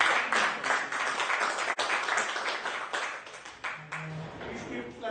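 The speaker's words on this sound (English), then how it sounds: "Amidst your thunderous applause, I request President Sanjay Bhatia to present the presidential collar to our incoming President, Rotarian Salil Chopra." Throughout the whole moment, continuous applause fills the hall at a Rotary Club of Chandigarh Midtown ceremony as the presidential collar passes to the incoming president, with a speaker's voice over the clapping.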